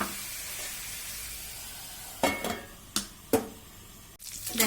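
Chicken fries in a pan with a steady close sizzle, broken by several sharp scraping clanks of a utensil stirring against the metal.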